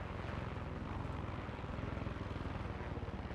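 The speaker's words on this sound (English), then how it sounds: "So let's try not to destroy this helicopter." A helicopter in Far Cry 6 flies near the mountains, its rotor a steady, pulsing drone, close and even for the entire moment, with no talking.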